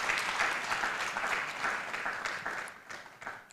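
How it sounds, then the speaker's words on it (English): A conference audience applauds the event's sponsors with moderate, steady clapping that fades slightly toward the end, heard alone and somewhat distant. "A round of applause for our sponsors."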